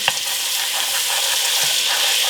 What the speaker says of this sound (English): So let's add this garlic in to the butter.